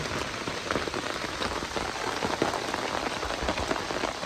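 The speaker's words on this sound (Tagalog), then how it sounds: "umuulan na" Steady rain falls during a fishing outing, a dense, even hiss of drops striking nearby surfaces throughout, with no speech.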